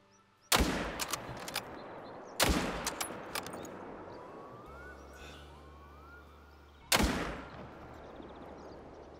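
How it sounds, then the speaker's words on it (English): Rifle shots during a moose hunt on Finland's Revontuli Coast: three sharp, loud cracks spaced a couple of seconds apart, each trailing off in an outdoor echo, with a faint low engine-like hum between them. "And that's two shots."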